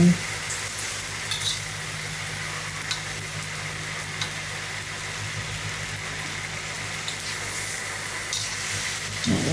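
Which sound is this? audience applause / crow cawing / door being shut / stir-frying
stir-frying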